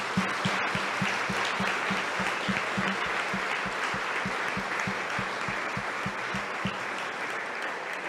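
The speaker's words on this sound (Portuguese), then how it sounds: "Só quem foi abençoado, dê um aplauso ao Senhor." A church congregation at a Brazilian worship service applauds in a steady, rhythmic, fairly quiet clap, with rapid regular beats over a soft wash of crowd noise.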